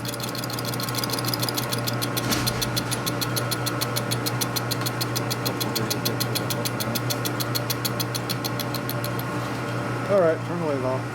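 A lathe runs while cutting a part, giving a steady mechanical hum with a rapid, regular ticking throughout. A brief voice comes in near the end.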